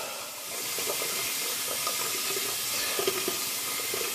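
Tap water runs steadily into a sink as a shaving brush is rinsed, a close continuous splashing hiss with small gurgles throughout.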